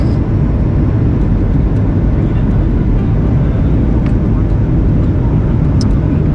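Inside the cabin of a passenger airplane coming in to land, a loud, steady low engine and airflow roar fills the whole stretch, with a few faint clicks on top.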